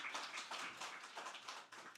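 Brief, quiet applause from a church congregation at a worship service, a soft crackling patter of many hands clapping for about two seconds with no voices.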